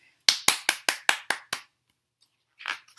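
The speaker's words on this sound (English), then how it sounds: "keep clapping, keep clapping." Seven sharp, evenly spaced claps ring out close by, the rhythm of a child clapping along during a story reading, then a pause and a faint rustle.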